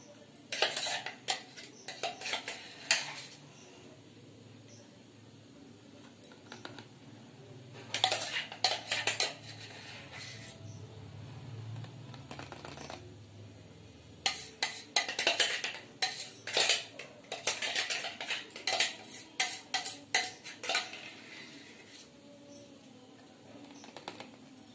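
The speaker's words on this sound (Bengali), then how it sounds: "দেখতে পাচ্ছেন আমি কিভাবে এটাকে দিচ্ছি চামচে করে করে।" Mango popsicle mixture spooned into plastic molds: bursts of clinking and scraping spoon-on-container clatter come in uneven clusters, loud and close, with quieter gaps between and no voices.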